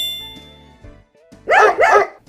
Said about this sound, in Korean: 멋지고 충성스러운 강아지 가지의 이야기를 들려줄게요